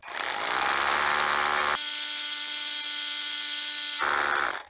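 Dnipro-M 201BC compact rotary hammer drilling with a 6 mm bit: a loud, steady whining hammer-drill run, close and alone, with a brief rougher start and end around a smoother, higher-pitched middle stretch.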